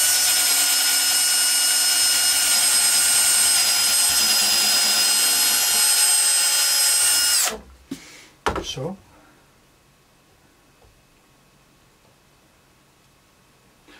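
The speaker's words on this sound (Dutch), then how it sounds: "Dus hier even een gat in boren." A power drill whines loudly and steadily for several seconds boring a hole in wood, then winds down and stops, followed by a couple of knocks and near silence.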